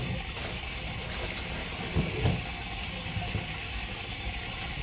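Water runs steadily from a tap in a continuous hiss, with a couple of faint clunks partway through.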